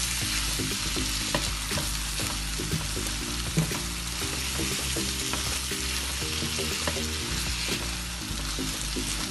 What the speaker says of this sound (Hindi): अब इसको मिक्स करें और सिर्फ 1 मिनट के लिए मज़ीद भूनें